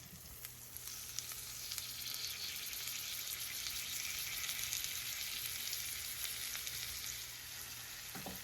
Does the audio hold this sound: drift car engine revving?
no